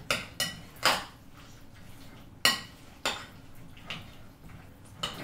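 A spatula scrapes and knocks against a dish while creamy casserole vegetables are stirred, several sharp clinks and scrapes spaced irregularly, close and fairly loud, no talking.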